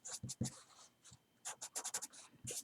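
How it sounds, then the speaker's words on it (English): Pen or marker scratching across a surface while a note is written, a close series of quick rubbing strokes in uneven bursts with short pauses between words. "I'm going to write a note here."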